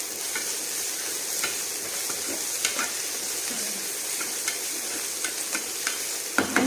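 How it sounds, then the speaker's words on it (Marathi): Chili paste stirred into golden fried onions in a hot pan, a steady close sizzle with scattered scraping spoon strokes and small clicks throughout, no voices. "आपल्याला ही मिरचीची पेस्ट आहे ती आपल्याला टाकून घ्यायची"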